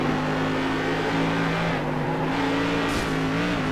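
Simulated race car engines from iRacing Tour Modified cars at North Wilkesboro drone steadily throughout, with a sustained tonal whine that shifts slightly in pitch, loud and continuous, with no talking.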